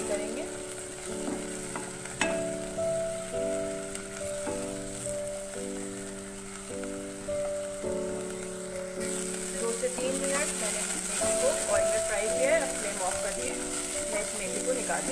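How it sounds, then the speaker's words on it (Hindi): A pan frying over a medium flame while masala is cooked, a steady close sizzle with occasional stirring scrapes running throughout beneath faint background noise. "दो से तीन मिनट तक हम इसको फ्राई करेंगे"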